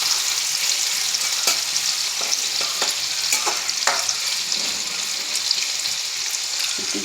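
Prawns with green chilli and tomato sizzling in a frying pan, a dense continuous hiss of oil with scattered spatula scrapes and taps early on, no voices.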